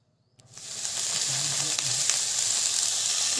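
A pan of fish head curry with pumpkin and potato fries with a steady, close sizzle as a spoon stirs it, the hiss rising quickly and then holding loud and even.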